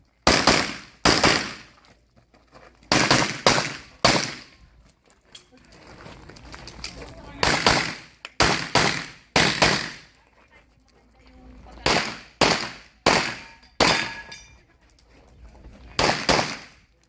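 Sharp gunshots ring out at Lian's Firing Range during an inaugural shoot, fired in rapid bursts and clustered doubles with quiet gaps, loud and close, while people talk faintly in between.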